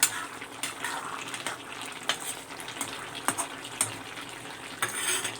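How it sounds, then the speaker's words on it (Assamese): Rohu fish pieces stirred in a hot spiced pan for fish curry, a steady close sizzle of frying broken by repeated scraping clinks of a utensil against the pan, no talking. "অলপ লাৰি চাৰি দি দিম।"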